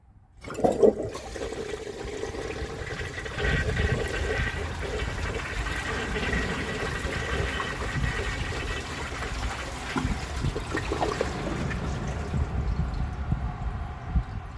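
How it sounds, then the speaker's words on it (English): A 1994 Eljer Kindergarten children's water-saver toilet, all original parts, flushes with a steady rushing gush of water that stays fairly even for about fourteen seconds, with no voices. "So let's give it a flush and see how it does on tests."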